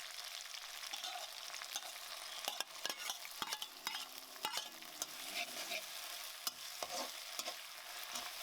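Green chilies and pomelo fry in oil, a soft, fairly faint sizzle punctuated by repeated sharp clicks and scrapes of stirring at an irregular pace, with no speech.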